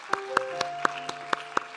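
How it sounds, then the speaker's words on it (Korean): A church congregation at a Sunday worship service gives a short round of thanks applause, heard as about eight evenly spaced sharp claps over a soft tonal background, moderately close and without talk. "하나님께 감사의 박수를 올려드리겠습니다"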